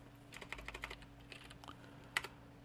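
Someone types a command on a computer keyboard, a quiet scatter of light, close key clicks in an uneven rhythm, with a sharper tap near the end.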